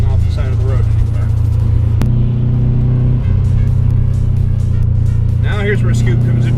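Engine drone of a Subaru Outback or Ford Fiesta ST cruising downhill at about 65 mph on a mountain road near Mt. Charleston, a steady loud rumble with road noise throughout, a voice talking over it.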